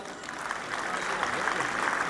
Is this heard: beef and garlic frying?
no